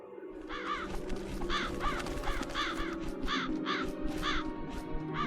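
Crows caw repeatedly in the video game Chains of Satinav, a steady run of harsh calls repeating every half second or so over a low ambient game background, fairly close and prominent.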